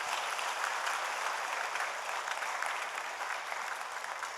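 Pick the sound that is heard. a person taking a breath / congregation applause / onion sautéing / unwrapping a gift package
congregation applause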